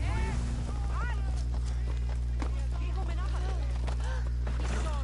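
Horse hooves clip-clop in the video game Assassin's Creed Odyssey, a quick rhythmic trot running under loud speech and a steady low game hum.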